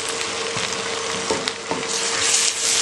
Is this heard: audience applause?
no